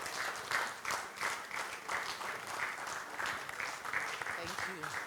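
Guests at a 40th birthday celebration clap together in a continuous, fairly quiet round of applause, rising and falling slightly, with a voice briefly heard near the end.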